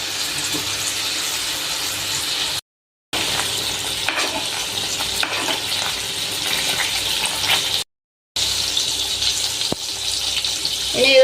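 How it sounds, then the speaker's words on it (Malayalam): Butter sizzles and hisses steadily and loudly in a pan over a low flame while beef steak fries, a continuous broadband crackle close by. "ലോ ഫ്ലെയിമിൽ വെച്ച് നമ്മളിത് ചെയ്യാവുള്ളു ഇതിലേക്ക് നമുക്ക് ബട്ടർ ഇട്ട് കൊടുക്കാം"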